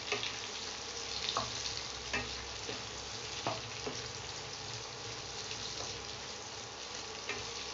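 Onions stirred as they fry in a pan for a Bengali prawn malai curry, a quiet steady sizzle with a few spaced spatula scrapes and taps, no voices.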